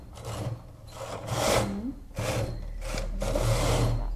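A knitting machine carriage slides back and forth across a child's sweater in black yarn, a rasping, scraping swish repeating in four close passes with short gaps between.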